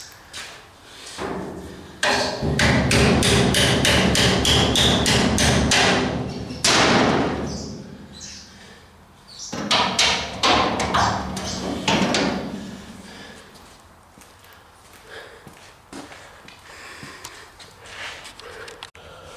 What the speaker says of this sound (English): I'll just have to give that a little bit of a tap to get it in.